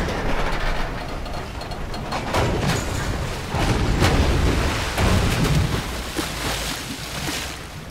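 Train in the video game GTA V, a continuous rumbling roll with rattling clatter and bursts of noise throughout, loud and close with no voices over it.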